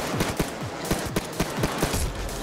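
Minigun fire in the video game Payday 2, loud rapid repeated shots with a rhythmic thumping cadence, with sustained gunfire noise throughout.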